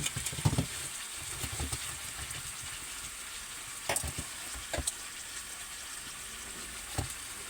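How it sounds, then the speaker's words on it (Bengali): White ridge gourd and potato fry in a pan with a steady, close sizzle, broken by a few soft stirring scrapes and clicks. "এবার নুন দিয়ে ভালো করে নাড়িয়ে এবার ভেজে নেবো এটাকে"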